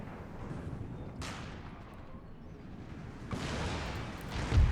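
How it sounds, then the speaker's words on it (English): Cannon fire in an Empire Total War battle: a dense, rumbling barrage of booming shots rolls on continuously, swelling louder near the end with a heavy close impact. "Oh, incoming cannons."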